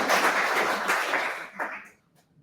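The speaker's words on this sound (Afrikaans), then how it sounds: "Julle mag my hande klap, ek hoor daar so hier en daar." Scattered audience applause at an annual general meeting of a blind people's organisation: a short, thin patter of clapping that fades out after about two seconds.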